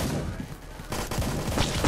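Gunfire in the military shooter game Blackhawk Rescue Mission 5, a dense fusillade of game shots and impacts filling the clip, with a louder burst in the second half.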